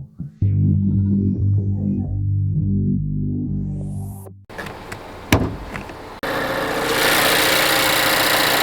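A 2026 Mazda CX-50 with a turbocharged 2.5-liter four-cylinder and six-speed automatic: a steady droning hum at first, then a short thump and quieter clatter, before a loud, broad rushing engine noise fills the rest.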